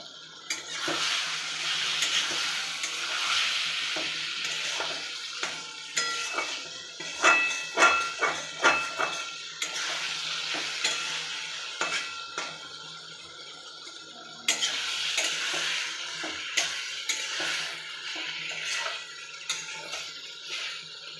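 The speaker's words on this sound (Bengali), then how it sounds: "সামান্য জল দিয়ে কষানো হবে শশাটাকে" Cucumber sautéed in a pan with ginger paste, chili and a little water, a soft bubbling sizzle under repeated close clinks and scrapes of a spatula on the pan.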